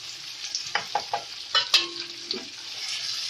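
Chicken and potatoes frying and sizzling steadily in a pot, with a series of scraping stirs and clinks from a utensil, close up.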